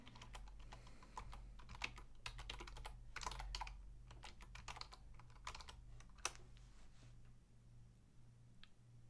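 Rapid, uneven keystrokes on a computer keyboard clatter close by, a steady run of light clicks over a low electrical hum, with no voices.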